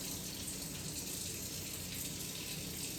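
A sink tap runs steadily while hands are washed with soap during a sanitization routine, a continuous close, even hiss of flowing water with no talking.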